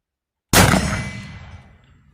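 A single loud boom from a Jim Bridger Hawken replica .54 caliber muzzleloader fired outdoors, starting after half a second of silence and trailing off into a long ringing decay.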